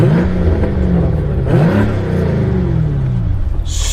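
A G-Power tuned BMW M5 CS, 820 horsepower, roars loudly with its exhaust valves open, the engine note sweeping up and down through two revving surges close by.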